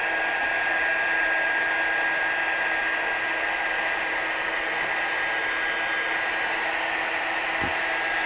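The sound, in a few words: heat tool blowing for heat embossing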